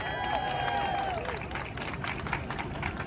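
An outdoor crowd in Times Square claps and cheers for a comedian at a celebration beside a hot dog sculpture, a steady patter of applause with a brief wavering whistle-like tone early on and voices mixed in.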